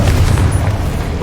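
Confringo blasting spell from the video game Hogwarts Legacy goes off as a sustained, heavy low boom with a rumbling roar filling the whole moment, loud and close, without any voices.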